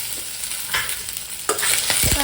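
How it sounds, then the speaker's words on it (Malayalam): Onions frying in hot oil in a pan with curry leaves, a steady close sizzle broken by scraping stirs and clinks of the spoon against the pan, no voices. "സവാള ഇട്ട് നന്നായിട്ട് മിക്സ് ചെയ്യാം"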